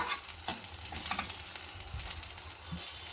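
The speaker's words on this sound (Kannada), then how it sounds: "ಎರಡು ಕಡೆಯೂ ತಿರುಗಿಸಿ ಚೆನ್ನಾಗಿ ಫ್ರೈ ಮಾಡ್ಕೋಬೇಕು" Potato-stuffed snack frying in oil in a pan, a quiet continuous sizzle with soft crackles and a few faint stirring or turning knocks, without talk.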